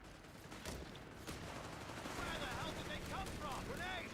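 Sustained machine gun fire from a Company of Heroes 3 battle, a dense steady rattle of bursts running throughout with game noise and faint voices over it.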